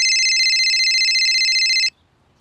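Electronic telephone ring tone, a steady bright warble that sounds loud and close for about two seconds, then cuts off abruptly into near silence, with no voices.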